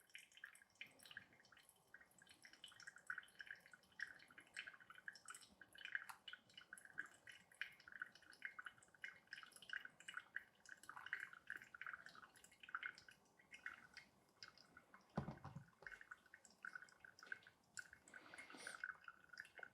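Water from a second pour draining through a V60 paper filter holding washed Rwanda coffee grounds, a steady close trickle and patter of drips that runs continuously, with a brief splash near the end.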